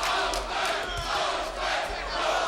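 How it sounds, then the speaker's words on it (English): A boxing arena crowd at the Tszyu vs Lopez fight roars and chants for Lopez, a loud, sustained wall of massed voices rising and falling in waves, with no single speaker standing out. "And now the chant from the crowd of Lopez."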